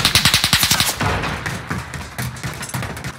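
Rapid automatic gunfire from a Call of Duty: Modern Warfare match, a fast burst of loud shots followed by denser, scattered firing and impacts mixed with game ambience.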